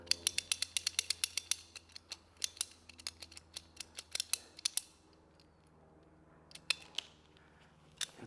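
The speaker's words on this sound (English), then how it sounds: "So with a pipe cutter," A handheld pipe cutter works on a pipe for a solar hot tub heating install, giving a rapid series of sharp metallic clicks and ratcheting snips, dense at first, then sparser, close and fairly quiet.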